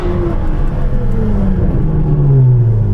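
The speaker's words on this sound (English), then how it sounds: "The thing about this car is the excessive noise." A Ferrari 812 sports car engine with over 800 horsepower growls and revs, its deep pitch rising and falling in a loud, close rumble.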